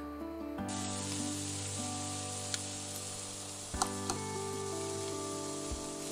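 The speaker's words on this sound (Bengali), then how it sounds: "তেলটা বোধহয় গরম হয়ে গেছে, মনে হচ্ছে। এবারে এটাকে তুমি ছেড়ে দিচ্ছ।" Bhaja pithe rice cakes drop into hot oil, setting off a sudden, sustained sizzle that stays strong and steady, with occasional small pops and clinks.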